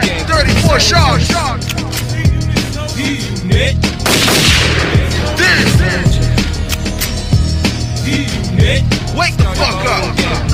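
Gunfire sound effect cut into a dense rap mixtape track, bursts of shots layered over heavy bass and beat, loud and busy throughout with music running under the bangs.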